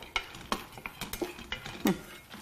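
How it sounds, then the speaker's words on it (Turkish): Pine nuts dry-roast without oil in a pan while a wooden spoon stirs them, giving soft irregular scrapes and light rattling knocks close by, with no talking. "Yağsız bir şekilde kokusunun çıkması için dolmalık fıstıkları kavuruyorum"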